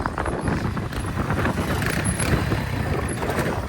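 Old Honda CB100 motorcycle engine running steadily while riding outdoors, a loud, dense, continuous rumble mixed with wind noise and no pauses.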